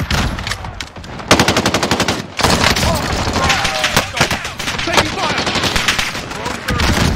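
Automatic gunfire in the video game Call of Duty Warzone: rapid machine-gun bursts and crackling shots, loud and close, repeating in dense volleys with brief pauses, over game sounds.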